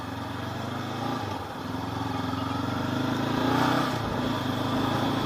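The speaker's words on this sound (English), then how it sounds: "So on this ride you're going to see how commuting around town on this CB500X is like" A 2019 Honda CB500X motorcycle riding around town, its steady engine drone running close and continuous, swelling slightly as the revs rise and dipping briefly near the end, with no voices over it.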